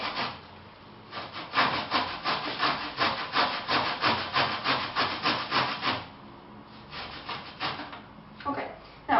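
Fresh ginger is grated in quick, rhythmic back-and-forth rasping strokes, a steady run of about a dozen close scrapes that pauses briefly and then resumes with a few more.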